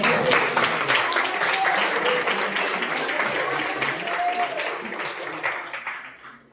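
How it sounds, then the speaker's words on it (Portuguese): Audience applause at a Christian worship gathering, a dense wash of clapping that holds steady for several seconds and then tapers off toward the end. "Uma salva de palmas."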